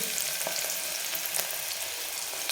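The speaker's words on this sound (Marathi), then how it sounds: "तेल गरम झालं की एक मोठा कांदा असा जाडसरच आपण कापून घेतला तो टाकून देऊ" A thick-cut large onion fries in very hot oil inside a pressure cooker for a mutton dish, giving a steady, bright, close hiss of sizzling with occasional small pops and crackles.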